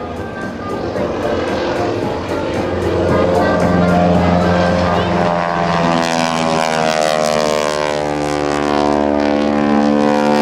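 A propeller stunt biplane with a wing walker on top performs at a naval air station air show, its engine roaring loud and close, the pitch rising and falling as the plane maneuvers overhead.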